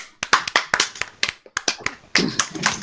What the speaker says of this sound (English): everybody round of applause for Tommy.